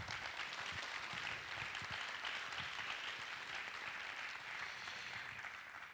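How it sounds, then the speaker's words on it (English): A debate tournament audience applauds its sponsors, a steady, dense wash of many hands clapping at moderate distance, continuous for several seconds with no speech over it. "Please, a round of applause to our generous sponsors."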